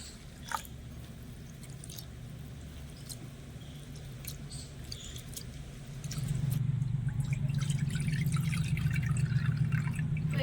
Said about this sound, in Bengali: এবারে চিড়েটা আমি এখানে একটা বাটির মধ্যে নিয়ে নেব জল দিয়ে চিড়েটা একটু ভালো করে ধুয়ে নেব